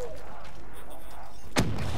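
A grenade goes off in Call of Duty Black Ops 3 Zombies: one sharp, loud blast near the end, over a steady bed of game noise and ambience.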